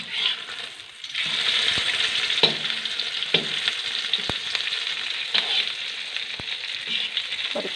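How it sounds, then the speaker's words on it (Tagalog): Steady, loud frying sizzle of oil as an eggplant omelette fries, with a few sharp clicks and taps of a utensil against the pan throughout. "Ulitin lang po natin ang pagprito."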